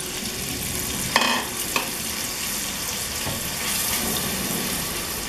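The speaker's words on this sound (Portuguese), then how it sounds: "Agora eu vou colocar uma cebola ralada para dar aquela douradinha bonita." Grated onion fries steadily in hot oil until golden, giving a dense, close, continuous sizzle with a couple of brief clatters of utensil stirring near the start; no voices.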